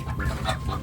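Cochin bantam chickens cluck in a few soft, short bursts close by, over a steady low background hum.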